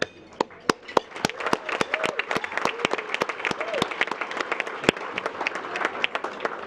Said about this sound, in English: we give you a round of applause